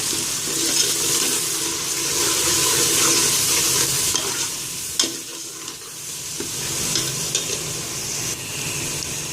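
Ginger garlic paste sizzles and fries steadily in a pan for goat trotter siri paye, a continuous broadband hiss with occasional stirring scrapes and clicks, close and fairly loud, with no talking.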